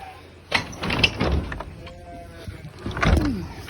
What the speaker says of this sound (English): Going to close the doors just in case he gets any thoughts of leaving.